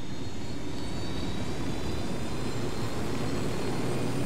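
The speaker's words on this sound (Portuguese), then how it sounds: "Eu vou de helicóptero." A helicopter in the video game Tom Clancy's Ghost Recon Wildlands gives a continuous, even engine and rotor drone, moderately loud and steady, with no voices.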